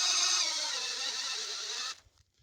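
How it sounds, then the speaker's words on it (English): A power drill with a spade bit boring a tap hole 1.5 to 2 inches into a maple tree, a steady close whine that holds for about two seconds and then cuts off abruptly. "And then I'm going to drill in just about"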